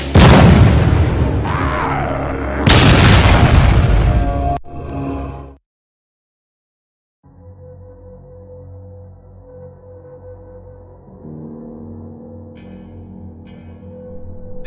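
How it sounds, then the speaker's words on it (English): Two loud booming blasts hit in quick succession, followed by a sudden silence and then a low, droning rumble of game-like ambience. "Fire the cannons"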